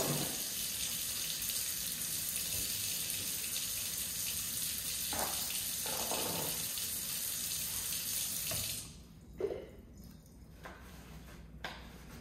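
A tap runs steadily into a sink while something is washed, a loud even gush for about nine seconds before the flow stops, leaving quieter drips and small clatters.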